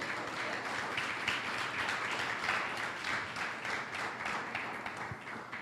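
Church congregation applauding together, a steady dense wash of clapping that holds evenly throughout at moderate level with no voices on top.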